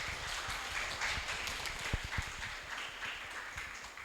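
Audience applause at a campus teaching session on drug awareness for university students, a steady wash of many hands clapping at moderate distance with a few sharper claps standing out, no voices on top.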